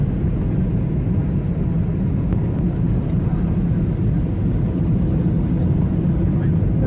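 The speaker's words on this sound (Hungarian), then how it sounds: "most fogunk landolni." Loud, continuous broadband jet airplane roar with heavy low rumble as it comes in to land at Malé airport in the Maldives, steady throughout with no clear speech.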